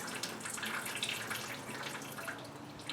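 Antifreeze coolant pours from a disconnected hose on a Polaris Sportsman 850 ATV, a steady close trickle and splatter of liquid running without pause.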